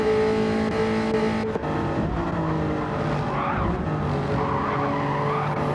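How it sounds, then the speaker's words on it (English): GT3 race car at Watkins Glen in a racing game, sliding through a corner with loud tyre squeal over a roaring, revving engine that shifts in pitch, close and continuous. "sliding his car around the corner"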